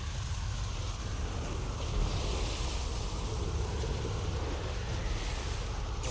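Snowstorm power cast in City of Heroes by a Water/Storm Corruptor: a steady, dense rush of wind-like noise that holds evenly throughout, swelling slightly partway in, with no voices.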